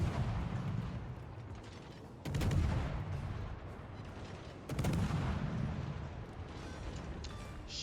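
World of Warships naval battle, with the ship Kitakaze taking shots at a Yugumo destroyer: two heavy gunfire booms spaced a few seconds apart over a steady rumbling game background, moderately loud.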